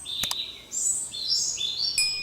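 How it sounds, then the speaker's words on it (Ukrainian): Several birds sing high, bright whistled phrases one after another in a Carpathian forest, with a couple of short sharp chirps, fairly close and clear over a quiet background. "Пташки співають"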